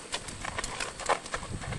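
A colt being ridden at a ranch walks with a steady clip-clop of hooves, the footfalls moderately close and fairly even, with no talking over them.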